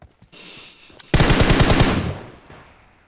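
A close, loud burst of rapid gunfire from the video game PUBG Mobile cracks out in a tight cluster of shots, then trails off into a fading echo, preceded by quieter rustling game sounds.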